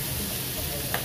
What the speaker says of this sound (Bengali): তো ঠিক আছে, পেঁয়াজটা ভাজা হয়ে আসুক,